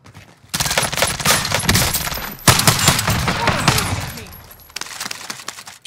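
Rapid bursts of video game gunfire crackle loudly and almost continuously from the player's weapon in a battle royale match, with brief pauses between volleys.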